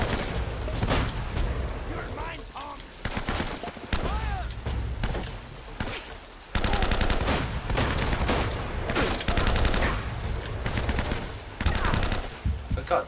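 Gunfire rattles through a battle in the video game Uncharted: Drake's Fortune, with loud bursts of rapid automatic fire and shots broken by short pauses, plus booming impacts, continuing across the whole stretch.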